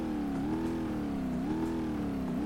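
A big diesel mud truck engine with no muffler revs in the BeamNG.drive game, a loud, steady exhaust drone whose pitch climbs and dips in repeated waves, with no talking.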